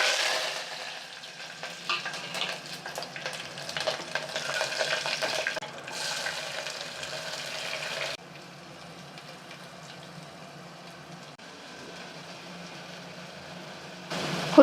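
Onions sautéing in a pan for kurma, a steady soft sizzle with stirring scrapes, louder in the first half and then settling to a quieter continuous fry.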